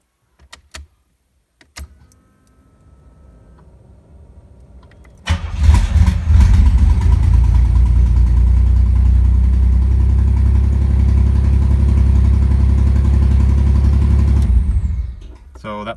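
A 1987 Pontiac Fiero SE V6 cranks and starts after an oil change, then settles into a loud, steady idle for about nine seconds before being shut off; faint clicks and a quiet hum come before the start.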